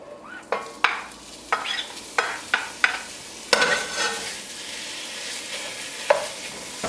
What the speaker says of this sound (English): Now we're going to add the ground beef and the Portuguese sausage.